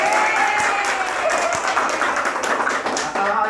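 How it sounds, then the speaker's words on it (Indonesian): Audience applause at a school teachers' event on an anti-bullying program, dense steady clapping from a crowd throughout, with a few sharper individual claps and faint voices mixed in. "Tepuk tangannya"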